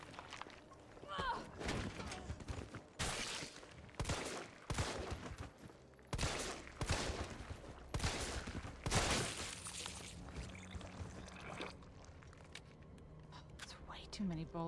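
Weapons fire in the Resident Evil 3 Remake video game, a string of loud, sharp shots and impacts fired in bursts over roughly ten seconds, then trailing off into quieter game ambience.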